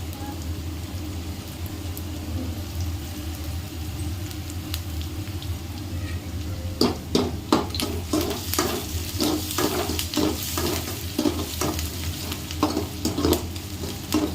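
Turmeric powder is stirred into churmuri mix in a pan over a steady sizzle, with repeated scraping strokes of a spoon against the pan growing louder in the second half.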